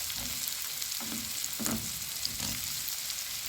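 Mushrooms frying in a pan, a soft steady sizzle at low level with a few faint stirring scrapes, no voices.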